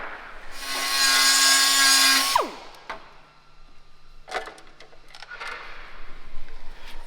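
A soap-lubricated saw cuts aluminum for a '69 twin turbo Corvair rear radiator, a loud bright grinding whine lasting about two seconds that winds down, followed by scattered clatter and handling knocks.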